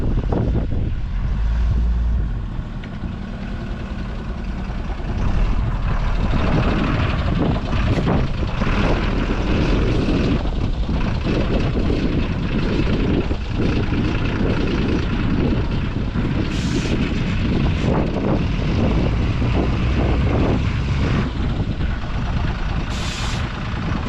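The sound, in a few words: dozer engine chugging like hit-and-miss engine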